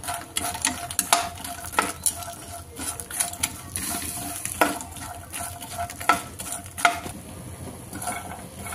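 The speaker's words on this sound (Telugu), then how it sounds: "ఫూల్ మకానా వేసుకొని ఫ్రై చేసుకుందాం" Puffed lotus seeds (phool makhana) fry in oil in a pan under a soft sizzle, while frequent sharp stirring scrapes and rattles from the spoon come close and irregularly.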